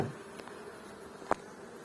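A faint, steady hum of honey bees drones in the background with a soft tap, buzzing at a distance during a hive inspection, and no talking.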